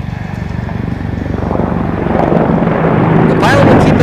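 AH-64D Apache Longbow attack helicopter at an air show demo, rotor thumping loudly and building as it returns past show center in a rapid reattack maneuver, with an announcer's voice over it.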